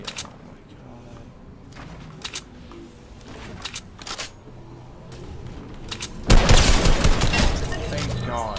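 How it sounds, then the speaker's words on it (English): Gunfire in the Fortnite battle royale game, a series of sharp shot bursts spread through the clip under a steady game backdrop, swelling into a loud, dense barrage near the end. "Why are you shooting me?"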